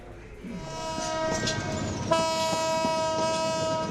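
A train pulls out of Kamalapur railway station with its horn sounding a sustained, harmonic blare close by over a low rolling rumble that swells slightly as it moves off.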